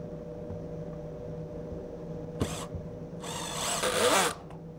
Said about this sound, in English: Just apply the glue to your joint and drive the self-tapping screw.